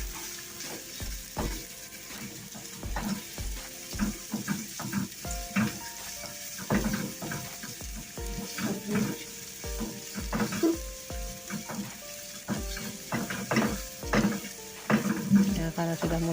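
A spice paste heats and fries in a pan, sizzling steadily with repeated scraping and clanking of a spatula stirring it, close and busy throughout.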